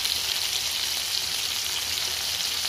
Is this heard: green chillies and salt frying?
yes